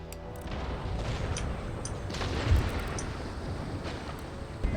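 Booming cannon fire from round shot in an Empire Total War battle, a dense continuous barrage of explosions and gunfire with sharper blasts standing out, sustained and loud throughout.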